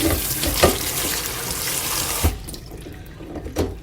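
Water running from a tap to soak soil for transplanted vegetables, a loud steady splashing rush that cuts off partway, followed by quieter drips and handling noises.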